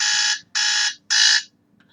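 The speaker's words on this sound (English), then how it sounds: "I don't know why I set the alarm" An electronic alarm goes off loud and close, sounding three even, high-pitched beeps with short gaps between them, then stops. No voices are heard.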